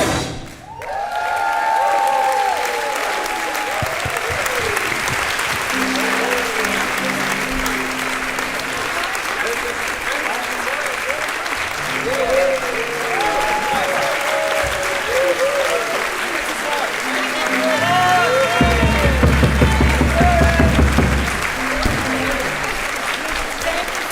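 Loud audience applause with some cheering after a live musical performance at the DW Global Media Forum 2025 opening ceremony in Bonn, sustained clapping throughout with a presenter's voice and a few thumps and musical tones mixed in.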